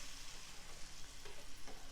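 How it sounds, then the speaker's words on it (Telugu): Tempering stirred into a cooked mixture of jowar rava and moong dal for pongal, giving a steady close sizzle with soft scraping from the spoon, alone with no voices. "ఇది చక్కగా కలుపుకోవాలి."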